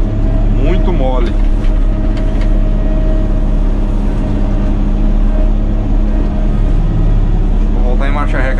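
A Caterpillar 120K motor grader's diesel engine rumbles loud and steady at close range on a stony, forgotten stretch of road, with brief voices audible over the constant drone.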